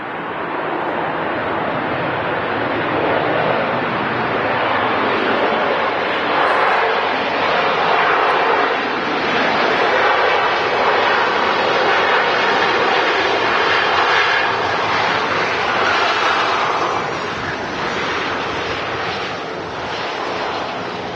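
A Jet2 classic airliner in a retro .com livery departs Manchester Airport for Antalya, its broad engine roar loud and steady for the whole stretch, with wind buffeting the microphone and no talk.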